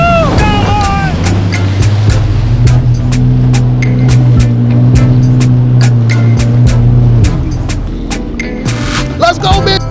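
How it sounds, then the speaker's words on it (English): Jet ski engine running on saltwater, a loud steady droning hum with throbbing low tones held for the whole stretch, close by, with splashing and wind noise around it. "I'm going straight for a jet ski."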